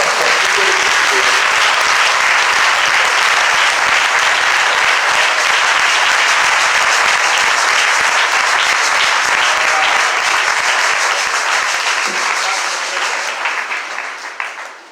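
A church congregation at a French-language sermon breaks into sustained, dense applause that stays loud and even for many seconds before tapering off at the end.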